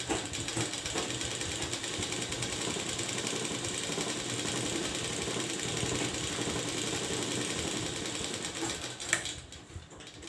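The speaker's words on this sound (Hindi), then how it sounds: "देखिए हम डबल सिलाई दे रहे हैं" A sewing machine runs a steady, continuous double seam on a blouse, its needle mechanism whirring and ticking close up and alone for about nine seconds before stopping with a brief clunk.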